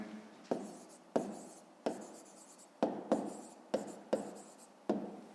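A pen writes by hand in a notebook during a fifth-grade maths exercise, making close, quiet scratchy strokes in a quick uneven rhythm of about eight short bursts.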